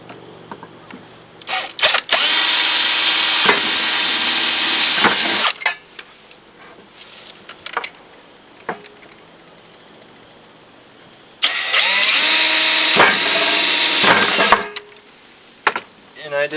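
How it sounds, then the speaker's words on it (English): A power drill fitted with a smaller bit bores holes through a pipe in two loud, sustained whirring bursts separated by quieter handling noises and clicks. "drill a couple of holes through the pipe."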